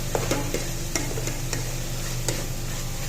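Prawns fry with onions in a pan on a stove, a steady sizzle broken by sharp clicks and scrapes as a utensil stirs them every half second or so.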